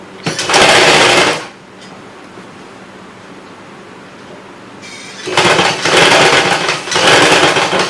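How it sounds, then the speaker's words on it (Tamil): A sewing machine stitches a blouse in two loud, steady runs, one short burst at the start and a longer stretch near the end, separated by a quiet pause with faint room noise. "இது கொஞ்சோண்டு தைச்சி காமிச்சிருக்கேன் பாருங்கள்"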